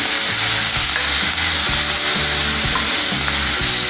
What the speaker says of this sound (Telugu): తాలింపు వేగింది.